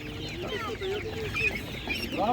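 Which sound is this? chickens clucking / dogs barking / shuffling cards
chickens clucking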